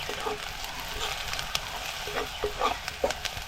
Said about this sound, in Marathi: हे बघ हे मसाला आणि हळद अशी परतून घ्यायची.